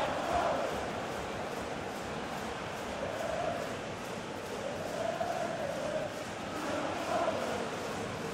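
Simulated stadium crowd in a football video game of a Sevilla versus Manchester City Champions League match, a steady dense roar with swelling chant-like waves throughout, heard alone without commentary.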